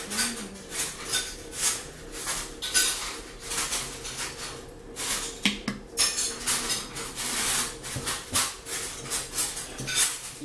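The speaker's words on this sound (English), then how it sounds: "rinse you out a spoon so I can add your honey." A metal spoon clinks against dishes while being rinsed in a home kitchen during lemon ginger tea prep, producing repeated light clatters and splashy taps close by, with no talking.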